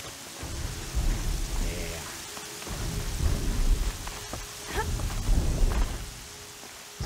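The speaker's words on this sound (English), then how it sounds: "Fog and rain and shit" Steady rain falls in the game Horizon Zero Dawn, a dense hiss with low rumbling swells like distant thunder rolling in and out across several seconds, with no speech over it.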